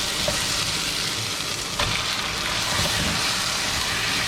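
Chicken pieces fry in a pan for a restaurant-style chicken jalfrezi, giving a steady broad sizzle with occasional stirring scrapes, close and continuous without speech.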